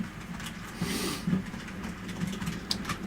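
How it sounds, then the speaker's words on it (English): Model trains run on tracks nearby, giving a steady rolling rumble with faint clickety-clack rhythm and occasional mechanical ticks, no talk. "They're watching choo-choos."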